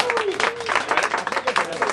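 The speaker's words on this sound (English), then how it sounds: "how about a quick round of applause for both chefs?" A crowd at a chicken cooking competition gives both chefs a quick round of applause, a short burst of scattered clapping with some murmuring voices underneath, moderately loud and lasting about two seconds.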